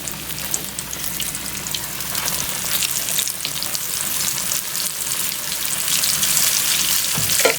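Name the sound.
Spanish mackerel fish frying in hot oil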